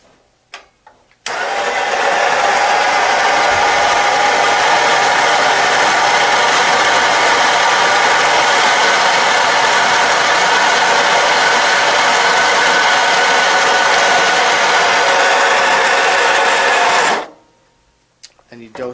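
A Gaggia MDF coffee grinder grinding beans, a steady loud whirring motor drone lasting about sixteen seconds that starts and stops abruptly, with faint clicks before and after.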